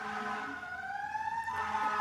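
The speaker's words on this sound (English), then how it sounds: "Hear the sirens?" An emergency siren wails steadily at a distance on a New York city street, its pitch slowly rising, heard alone with no voices.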